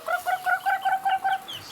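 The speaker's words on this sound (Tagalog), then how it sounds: "Dami kong manok na." Rapid, rhythmic clucking from a chicken, about eight short notes in quick succession, close and clear.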